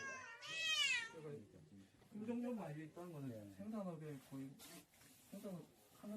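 Cats meow inside a house where hundreds of cats are kept. Several drawn-out meows follow one another at close range, some rising and some falling, with a high squeal near the start.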